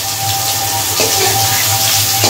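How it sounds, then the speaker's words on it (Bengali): Mango pieces fry lightly in oil with dried red chilli and Bengali five-spice, giving a steady, hissing sizzle that runs unbroken close by, with faint hum beneath it. "এবার আমি আমটা একটু হালকা ভেজে নেব"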